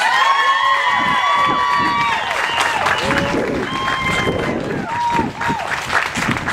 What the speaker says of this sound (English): So just give her one more round of applause, please.